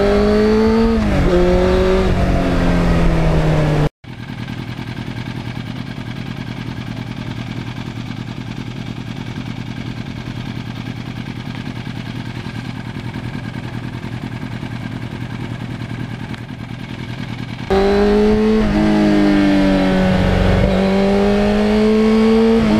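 A restored 1991 Yamaha FZR 1000 motorcycle revs through its gears, its engine note rising and falling at the start and end around a long stretch of steady, loud roar; no talking.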